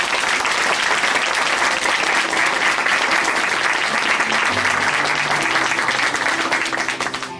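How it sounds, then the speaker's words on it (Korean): Loud, sustained audience applause fills a church hall at Chuncheon Hanmaeum Church during a Christian testimony program, steady clapping from a large congregation that tapers slightly at the end. "다시 한번 응원의 박수 보내드리겠습니다."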